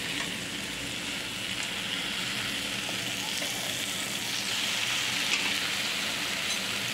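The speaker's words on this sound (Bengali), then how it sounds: "হলুদ দিয়ে কষানো হয়ে গেছে, এবার আমি কুমড়োর ডাঁটাগুলো দিয়ে দেবো।" Pumpkin stalks frying with turmeric in a pan, giving a steady, moderately close sizzle with faint stirring scrapes that runs evenly throughout and stays free of talk.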